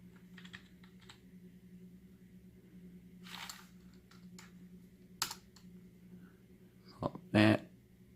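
Sparse keystrokes on a RECCAZR MC500 gaming keyboard, a few scattered clicks and short bursts of typing over a low steady hum, with a louder cluster of presses near the end.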